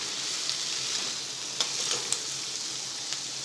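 Corn kernels stirred in a hot frying pan with tomato give a steady bright sizzle throughout, broken by a few light scraping clicks of the spoon, close and alone without talk.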